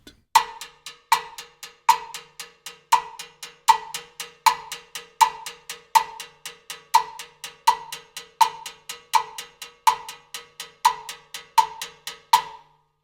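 Bossa nova clave pattern with steady 16th notes played on timbales, an even stream of bright, woody strikes with regular accents, close and moderately quiet, no voices.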